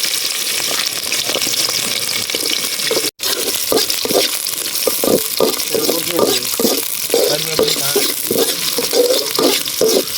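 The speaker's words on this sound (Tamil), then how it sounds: "நம்ம இப்போ எண்ணெய் ஊற்றிட்டோம். இப்போ நம்ம கடுகு போட்டுக்கலாம். வெங்காயம் போட்டுக்கலாம்." Mustard seeds and onion fry in hot oil in an outdoor forest kitchen, a loud, continuous sizzle with crackling pops and stirring scrapes that briefly cuts out once.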